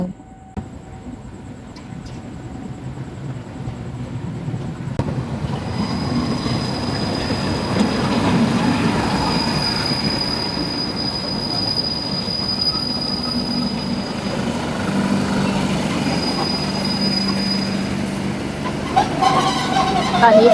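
Special train 1172 from Lat Krabang to Bangkok rolls into Hua Mak station, a loud, steady rumble of wheels on rails with high squealing tones from the wheels, heard close from on board for about twenty seconds.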